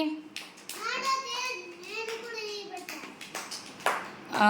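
Children clapping for a classmate named Mamata in a classroom, short bursts of sharp claps between a child's sing-song talk and an adult voice, close and uneven.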